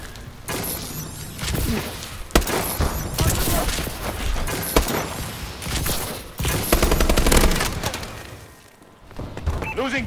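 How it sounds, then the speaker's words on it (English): A bombing run airstrike in a video game pounds continuously, with dense rumbling explosions, sharp cracks and crashing impacts layered over one another for about ten seconds before easing off briefly near the end. "Friendly bombing run clearing the way."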